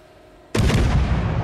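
Naval artillery firing in World of Warships, a single sudden loud blast breaking a quiet background and rumbling out afterward.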